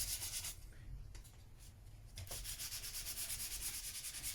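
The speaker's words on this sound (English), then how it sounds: "I'm not going to worry about sanding any more out with this after I just do a few passes." Close, quiet rubbing strokes of sandpaper across guitar frets during fret leveling, a rhythmic back-and-forth scraping that carries on through several passes, with no talk.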